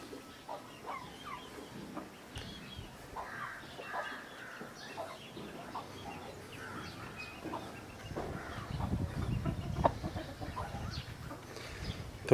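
Aseel hen clucking on a village farm, short soft clucks scattered through steady outdoor background noise, growing busier and louder toward the end.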